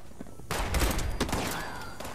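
A sudden close burst of rapid gunfire in the video game Fallout 76 cracks out, then rings and fades.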